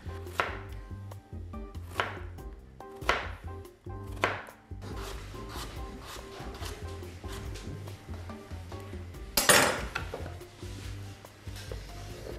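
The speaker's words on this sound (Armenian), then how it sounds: "նրանք ունեն հատուկ գործիք, այսպես քաշում եք և կարտոֆիլը այսպես գեղեցիկ կտրատվում է" Potatoes are sliced with a special Korean cutting tool: sharp, evenly spaced chopping strokes about once a second, then a scraping clatter near the end, close and fairly quiet.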